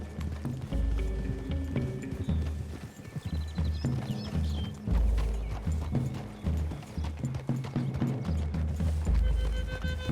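Horses gallop in the video game Red Dead Redemption 2, their hooves making a steady, rhythmic clip-clop that runs throughout over a background musical score.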